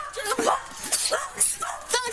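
A dog barks and yips several times at close range while officers enter a home during a police call, with people talking over it throughout.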